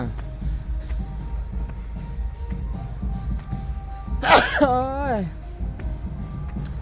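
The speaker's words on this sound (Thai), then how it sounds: "จามแล้ว" A person sneezes once, loud and close, a sharp burst with a short voiced tail, over a steady outdoor background murmur.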